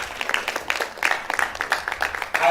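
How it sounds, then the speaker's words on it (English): Audience applause after a speaker's introduction at a debate event, a steady patter of many hands clapping at moderate loudness for a couple of seconds. "Please give her a round of applause."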